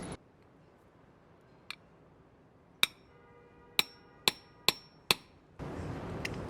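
Small metal letter stamps struck with a hammer, six sharp metallic clinks spaced irregularly with brief ringing decay, close and distinct over quiet, ending in a short stretch of broad noise.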